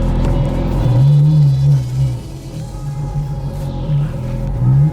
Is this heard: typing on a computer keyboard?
no